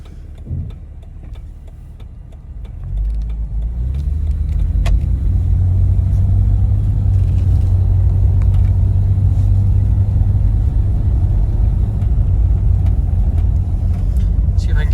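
A 1998 Jeep Cherokee XJ speeds up on a highway, its engine rumble swelling from a low idle-like drone into a loud, sustained roar of road and motor noise with no voices.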